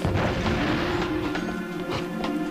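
Bomb explosions from the Ratchet and Clank video game on Blarg Station: dense, continuous booming blasts rumble one after another for a couple of seconds, loud and crowded with game effects.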